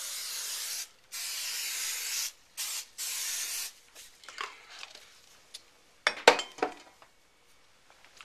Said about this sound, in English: I'm going to coat it with a cooking spray, slightly buttery.